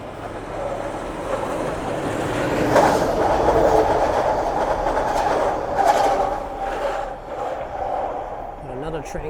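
A Scarborough RT Line 3 train approaching Kennedy Station in Toronto, its rumble and clickety-clack on the rails swelling as it passes nearby, then easing off, with no talk over it.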